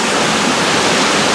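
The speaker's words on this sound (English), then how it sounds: "You can just see, just past this waterfall here, that's where it drops down." A waterfall in Scotland roars steadily nearby, a loud, dense, unbroken hiss of falling water with no other sounds over it.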